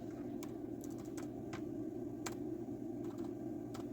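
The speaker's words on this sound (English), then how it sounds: "My keyboard does not work that well," Typing on a computer keyboard with sticky, poorly working keys, producing sparse, irregular clicks close by over a steady low background hum, with no talking.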